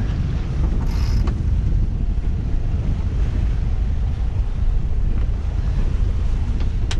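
Strong wind roars steadily across the microphone over the rush of big waves at sea during a squally crossing, a constant loud, dense noise with no pauses.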